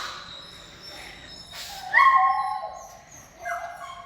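A dog at an animal rescue shelter lets out a few sharp yips and whiny barks in short bursts, fairly close, separated by quiet stretches.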